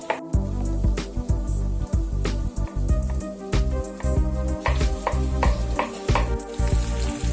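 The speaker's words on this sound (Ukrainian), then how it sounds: "Наші ковбаски смажаться." Sausages fry loudly in a pan, a continuous crackling sizzle broken by frequent clicks and knocks of stirring, close by.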